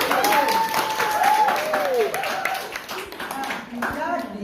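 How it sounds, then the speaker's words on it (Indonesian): Classroom applause from a group of students, dense clapping running steadily through the whole stretch with excited young voices calling and chattering over it, fading slightly toward the end. "Yuk berikan tepuk tangan."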